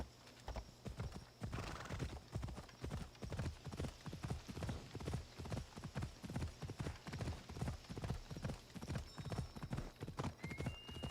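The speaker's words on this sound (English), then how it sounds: "Call the horse." A horse gallops in Assassin's Creed Odyssey, rapid rhythmic hoofbeats pounding steadily and close for the whole stretch, with a brief whinny partway through and faint game sounds behind.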